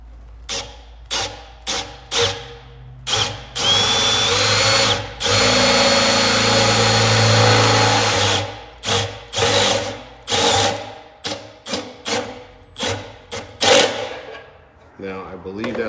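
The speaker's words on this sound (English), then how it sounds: "I'm going to drill until we get to that 9/16 knot" A power drill bores a hole through a tank wall for a bulkhead fitting, working the bit up toward 9/16 inch. Short whirring bursts repeat in rhythm around one long sustained run, loud and close.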